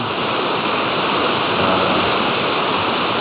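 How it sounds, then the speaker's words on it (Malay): Swift, clear water of the Kampar River at Gopeng, Perak, rushing steadily past forested banks in the evening, a dense, continuous broadband roar close by with no voices. "Dan air yang mengalir deras, jernih, bersih."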